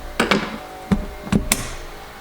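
A screwdriver pries a part off a Mazda RX7 13B turbo throttle body, giving a few sharp metallic knocks and clicks close by, spaced irregularly over about two seconds, with no talking.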